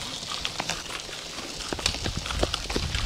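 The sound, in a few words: horse hooves clip-clopping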